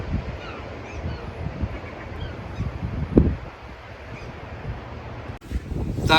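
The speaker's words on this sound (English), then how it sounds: "That wind is definitely picking up." Wind gusting outdoors around a council house garden, a steady low rumble of buffeting against the microphone with a sharper gust midway and a rising surge near the end.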